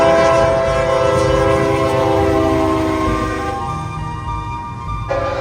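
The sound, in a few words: freight train passing with horn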